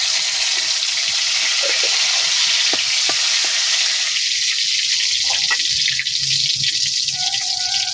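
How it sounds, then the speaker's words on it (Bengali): Bay leaf and brinjal frying in hot oil for a potato curry give a loud, continuous close-up sizzle with a steady hiss and a few faint stirring taps, with no talking. "দিয়ে তেজপাতা বেগুন দিচ্ছি"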